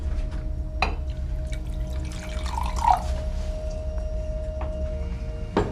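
A drink is poured into a glass, with a sharp clink near the start, then a brief gurgle of liquid and a light tap at the end, close by over a low steady hum.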